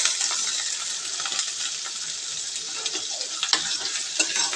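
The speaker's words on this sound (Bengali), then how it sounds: "সিম্পলভাবে আর কি কচুটা বাগার দিই, চিংড়ি মাছটা বাগার দিই" Taro and shrimp, with taro leaves, sizzle and crackle steadily in hot tempering oil, a dense close-up fry with scattered pops and occasional stirring clicks, no voices.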